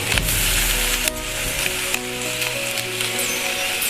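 Tomato dropped into hot oil for an okra chutney, a loud, close sizzle and crackle with a few clattering knocks of a spoon against the pan, continuous throughout without any voices.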